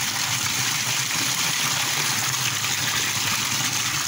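Icy cold spring water pouring from a village fountain in Doğanşar, Sivas, a steady close gushing and splashing that runs continuously without pause.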